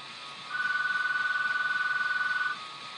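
A telephone rings once, a warbling electronic trill lasting about two seconds before falling quiet.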